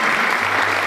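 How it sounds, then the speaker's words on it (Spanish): Brief, dense applause from a gathered crowd at a ceremony honouring auxiliary mayors in a Guatemalan community, a steady burst of many hands clapping together for about a second. "Fuerte aplauso para don Miguel"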